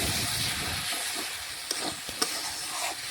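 Chicken pieces stir-fried in a pot over a wood fire on a clay stove give a steady, close sizzling hiss, broken by a few faint clicks and scrapes of stirring, with no talking.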